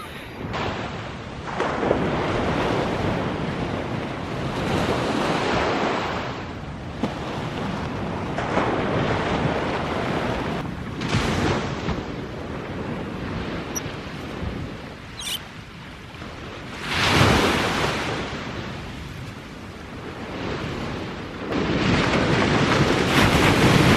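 Ocean waves break on a sandy beach at sunrise in steady, loud rolling surges with louder crashes, mixed with wind buffeting the microphone; no voices.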